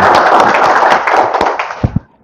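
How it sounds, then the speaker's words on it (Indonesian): An audience at an emergency response and ambulance service training session in a Jakarta hotel applauds in a close, dense burst that thins out to a few last scattered claps before stopping. "Jadi tepuk tangan dulu untuk Bapak Ibu."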